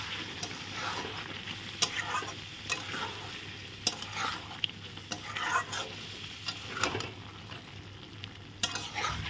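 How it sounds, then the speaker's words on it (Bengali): Steamed moong dal stirred into frying spices for a potol dish, repeated spatula scrapes and taps over a steady sizzle, close-up and free of voices. "মুগ ডাল দিয়ে এখন ভালো করে নেড়ে চেড়ে নিচ্ছি।"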